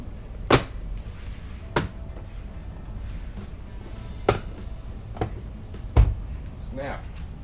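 Plastic door panel clips on a 2016-2024 Camaro LT passenger door snap into place in a handful of sharp, separate clicks, close by over a steady low background hum.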